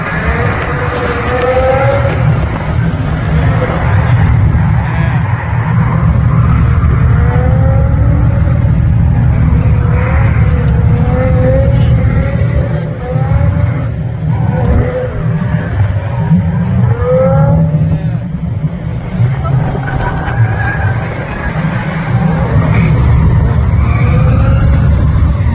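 A car drifting around a track corner at a drift day, loud continuous engine roar with rising and falling revs and tyre noise, close and sustained.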